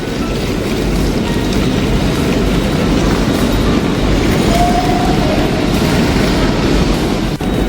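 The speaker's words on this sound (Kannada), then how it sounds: "ಎಡಿನ್ಬರಾ ವೇವರ್ಲಿ ಸ್ಟೇಷನ್. ಸೊ ಇದೂ ದೊಡ್ಡ ಸ್ಟೇಷನ್." A train at Edinburgh Waverley railway station, heard as a loud, steady rumble filling the large station, with a low continuous roar and a faint brief squeal partway through, no clear talk.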